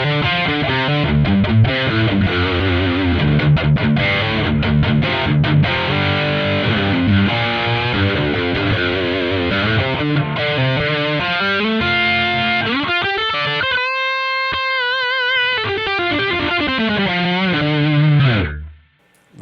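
Electric guitar run through distortion followed by a Line 6 Helix polyphonic pitch shifter, playing loud, dense chords and riffs with pitch-shifted harmonies, then a sustained gliding note before the sound cuts off.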